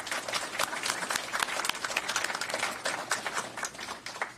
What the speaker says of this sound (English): Let's give them all a great round of applause, would you please?